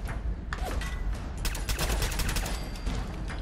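Sustained gunfight gunfire in Fallout 4 against Skinny Malone's gang, dense overlapping volleys of shots crackling continuously throughout, loud and busy with no talk.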